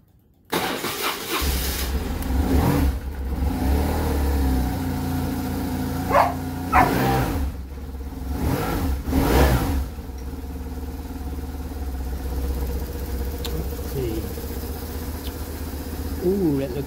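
A BMW R1150RS motorcycle engine cranks over and fires up, then revs in several sharp bursts before settling into a rough, steady idle, heard up close.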